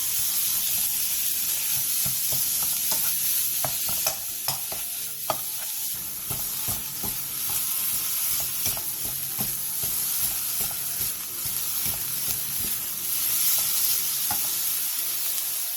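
Marinated beef stir-fries in a hot pan with a steady, close hiss of sizzling and frequent scraping taps from a utensil moving the meat.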